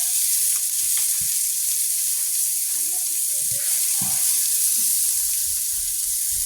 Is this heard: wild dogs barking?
no